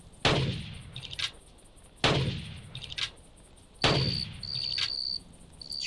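Three sharp gunshots ring out from a hunting game, Carnivores, evenly spaced about two seconds apart, each a loud crack with a short decaying tail amid outdoor insect and bird ambience.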